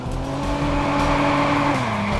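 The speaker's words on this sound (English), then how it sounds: "Drifting like a boss." A car drifts in the video game Watch Dogs, giving a loud, sustained tire squeal over steady engine drone that pitches down slightly near the end. No voice is heard.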